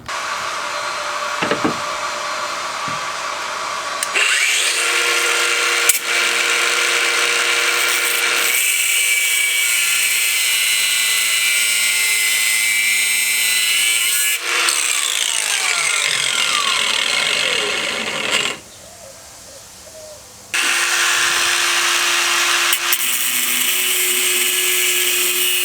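A power cutting tool, cutoff wheel or reciprocating saw, trims the threads on a car's shifter cable during turbo prep, a loud, close, continuous whine and grind that shifts pitch several times, briefly drops away, then resumes.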